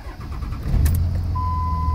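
A 5.9 Cummins diesel truck engine cranks and catches, rising into a low steady idle with a faint high whine, close and fairly loud, no talking.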